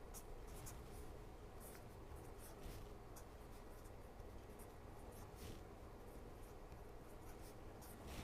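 An equation being written down, with a steady faint scratch of pen or marker strokes in short repeated bursts over low room noise.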